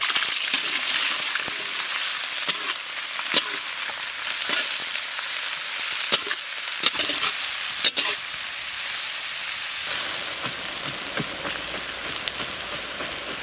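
Bay leaf, cinnamon, cardamom, cloves and onion fry in mustard oil with a steady, loud sizzle, broken by several sharp spatters and spoon clicks against the pan.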